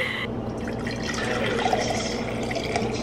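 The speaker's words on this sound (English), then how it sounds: "You guys just saw me get my water for the night" Water runs from a kitchen tap into a drinking glass, a close, steady trickling fill with a few small splashes and drips across a few seconds.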